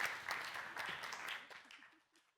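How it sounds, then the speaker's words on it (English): Brief applause from a science communication competition audience, fairly faint and fading away over about two seconds. "whip up some frenetic epigenetic applause, please, for Eliska"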